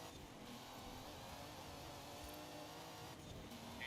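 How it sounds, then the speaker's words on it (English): Car engine in Forza Horizon 5, heard from the cockpit of a slidey race car holding the lead in a tournament race, a steady loud drone with broadband road and tire noise throughout. "Hearing it from first person in the cockpit with Unspeakable G as he holds on to the lead"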